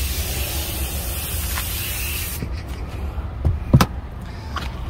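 A foam car cleaner from AliExpress is sprayed onto a dirty car surface with a loud, continuous hiss that cuts off about halfway, followed by a few soft handling clicks and knocks.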